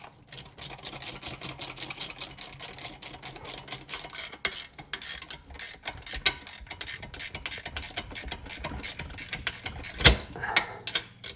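Rapid ratchet clicks while a 17 mm fitting is tightened during a Porsche 951 top-end engine rebuild, steady close bursts of fine ticking with brief pauses and a sharper clank near the end.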